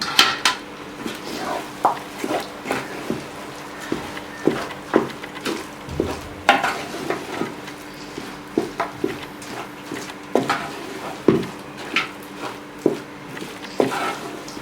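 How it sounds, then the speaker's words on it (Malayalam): A utensil stirs kappa (tapioca) biryani in a pot, producing repeated scraping knocks and metallic clinks in an irregular rhythm, with a light sizzle underneath. "ഇനി നല്ല രീതിയിൽ അത് ഇളക്കി കൊടുക്കാം"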